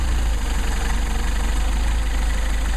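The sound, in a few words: Mercedes 190SL engine idling at about 1,000 RPM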